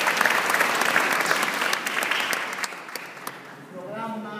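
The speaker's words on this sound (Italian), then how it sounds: "Quindi un applauso anche a loro." Warm applause from an audience at a Christmas concert held in a municipal council chamber, strong at first then thinning out toward the end, where a voice begins to speak.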